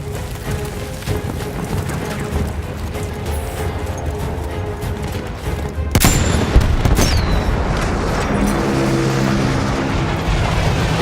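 Gunfire in the video game Battlefield 1, buried in a dense, loud and continuous wash of battle noise, with a heavier blast and a few sharp cracks near the middle.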